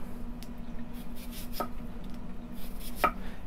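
A knife slicing amaranth greens thinly on a board, two distinct crisp chops about a second and a half apart over a low steady hum.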